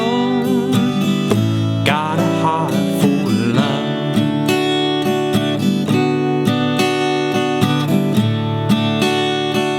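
Acoustic guitar plays the second line of a song in a steady strummed rhythm, with a voice singing the melody over it, close and full throughout.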